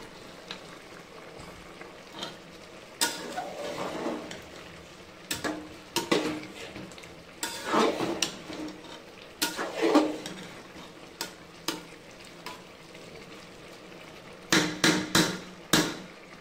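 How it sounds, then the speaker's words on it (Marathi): Masale bhat rice being stirred in a cooking pot: irregular scraping and clanking bursts from the spoon against the pot, with a soft bubbling simmer between strokes, fairly close and without talk. "सो एकदा आपण याला हलवून घेऊयात म्हणजे जरा व्यवस्थित मिक्स होईल"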